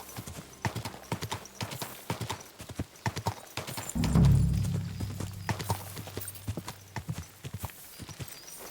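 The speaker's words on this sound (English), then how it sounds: "Olha o cavalo que estava lá, mano. É o cavalo do Vavak." Hooves of a horse in Kingdom Come: Deliverance II clop in a steady walking rhythm of sharp distinct beats, with a brief low snort or whinny midway; no talk.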